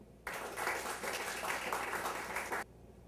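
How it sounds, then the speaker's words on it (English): Audience applause at a literary reading event, a short, steady burst of many hands clapping that starts and stops abruptly and is heard at moderate distance, with no speech. "Please give a round of applause for Nadia."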